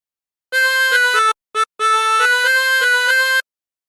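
A harmonica plays a short phrase of the Battle Hymn of the Republic, clear sustained reedy notes stepping between pitches with one brief gap, alone and close.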